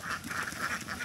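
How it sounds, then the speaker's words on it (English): Ducks quack in a rapid rhythmic series at a homestay in Ubud, Bali, moderately close and fairly loud, with no voices over them. "Who knew you could have heard bloody ducks?"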